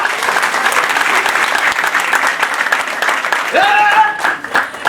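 Church congregation applauding for the Lord, a dense, steady wall of clapping from many hands that carries through to the end, with a voice rising over it near the close.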